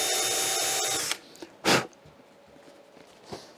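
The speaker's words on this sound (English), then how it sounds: "I have a drill bit here with a stop, and this is to make sure that you're not drilling too deep." A power drill with a depth-stop bit whirs loudly for about a second while boring into an arcade control panel, followed by a short burst and faint handling noises.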